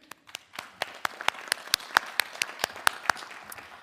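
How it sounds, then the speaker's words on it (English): A few people clap in an even, quick rhythm at a board of trustees candidate forum, each sharp clap distinct, with no talking. "I want to give a big round of applause"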